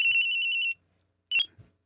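Cell phone ringing in Phoenix Wright: Trials and Tribulations, a steady electronic ring tone for under a second, then silence and a short beep-like chirp, loud and alone.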